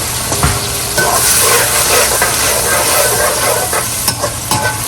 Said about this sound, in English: now we're going to put a little bit of red wine vinegar in there.